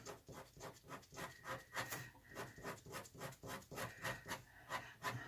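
A pen scratches ink lines into a drawing of an orangutan's long, hanging hair. The quick, rhythmic strokes repeat steadily, faint and close-up.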